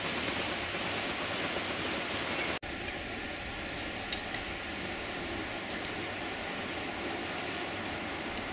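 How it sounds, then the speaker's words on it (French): Steady, dense rain pouring down on a woodland trail in the Gran Paradiso mountains, a constant hiss with faint ticks and patters, broken by one sudden momentary dropout. "la pluie revient et tombe de plus en plus fort, accompagnée de grêle et d'orage"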